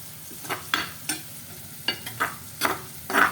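Paneer bhurji with masala frying in a pan, heard as a soft background sizzle punctuated by repeated scraping strokes of a spatula, roughly one every half second, close and fairly loud.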